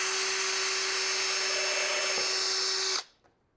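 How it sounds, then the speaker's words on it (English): A power drill with a short bit bores into the back of a plywood barn quilt panel clamped in a frame, giving a steady, close whine for about three seconds before it cuts off abruptly. "I have a short drill bit and I checked it to make sure it won't drill through the face of the plywood since I'm drilling from the backside."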